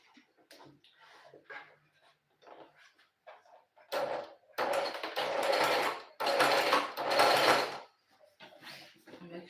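A sewing machine stitches up a pocket in several loud, close whirring bursts of a few seconds each, separated by pauses with soft handling clicks and faint talk.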